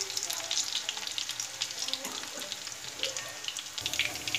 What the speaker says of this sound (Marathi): आता हा कांदा यामध्ये व्यवस्थित चांगला परतून घेऊया